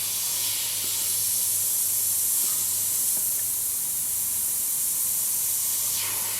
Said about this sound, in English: This is where the airbrush really comes into its own on this kind of stuff.